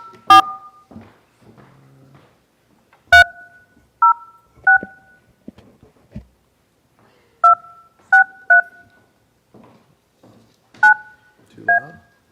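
Touch-tone telephone keys are dialed during a historic district review board meeting, a series of short, loud, evenly spaced beeps with silent gaps and faint background rustles between presses.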